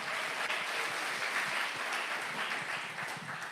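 Applause from a church congregation at a Pentecost gathering, a continuous even patter of clapping at moderate distance, fairly faint and without talk.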